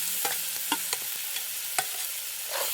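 Mashed brinjal being stirred into a sugar-sweetened masala in a pan, with scattered soft scrapes and knocks of the spoon over a quiet sizzle.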